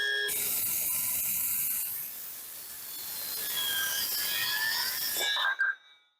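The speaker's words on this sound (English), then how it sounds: "My first cut, yes. I'm loving the new circular saw already." A new circular saw cuts through a wooden board: a loud, steady high-pitched whine and rasp runs for about five seconds, then the blade spins down and stops.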